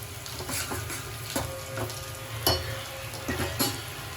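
Onion browning with dried curry leaves for a tempering crackles steadily in a pan, with quiet stirring clicks and scrapes at close range and no voices.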